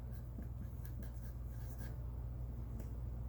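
Pencil writing on scratch paper, a soft steady scratching with faint strokes over a constant low hum, close and quiet with no talk.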